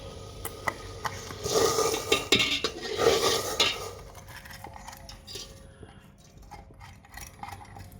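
Rice goes into a pot of boiling water for kheer and is stirred, bringing a few seconds of clinking metal spoon and pot sounds over a faint bubbling background, close by, with no talk.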